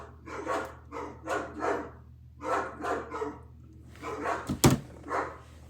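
Several dogs bark in a dog pen in repeated bursts, fairly close, then a sharp thunk like a dog door banging near the end before more barking.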